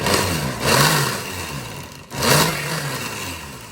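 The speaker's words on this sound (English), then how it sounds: "We won't do a whole lot of the blending because it's loud and annoying" A blender mixes non-dairy sorbet with two loud whirring motor surges, each rising and then easing off, separated by a brief dip in sound.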